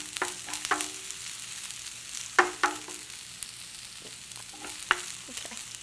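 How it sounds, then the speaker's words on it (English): Spiralized broccoli with red ingredients sizzles steadily in a frying pan while a utensil stirs it, giving soft scraping clicks and occasional sharper knocks against the pan over the continuous hiss. "Just stir that all together."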